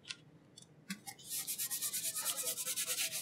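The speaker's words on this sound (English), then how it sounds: "And bear down on it really well. Burnish that right in." Firm rubbing strokes as a stencil is burnished down onto a pint glass for glass etching, a close, steady series of scratchy scrapes in a regular rhythm after a few faint taps.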